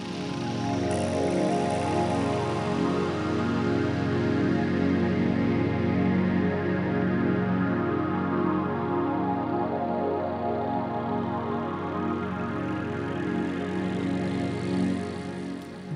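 A dense, slowly shifting ambient synth stacked with a soft pad, PS1-style, swells continuously for about sixteen seconds at an even, moderately loud level with no talking.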